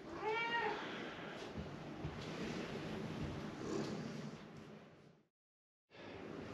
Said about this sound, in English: this cat keeps bumping the camera and jumping in the way